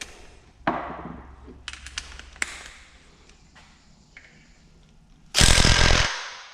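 A Snap-on impact wrench working on an engine pulley during a broken-crankshaft GT500 engine teardown, with scattered metallic clanks and taps, then a loud burst of rattling hammering close by near the end.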